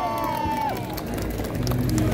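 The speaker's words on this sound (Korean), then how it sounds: "박수!" An audience at a street busking show in Sinchon claps and cheers in a noisy burst. A brief musical tone rings out at the start, and the crowd's rustle and hubbub continue around it.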